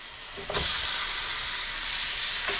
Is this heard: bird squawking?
no